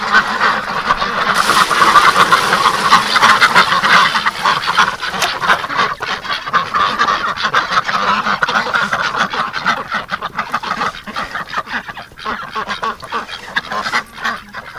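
Many ducks quack continuously in a noisy, overlapping chorus, loud and close, with the flock's calls filling the whole stretch.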